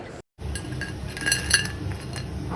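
Crispy fried onion mix being handled and crumbled by hand, producing close, dry crackling and rustling with light clinks of a metal dish, steady throughout after a brief silent gap.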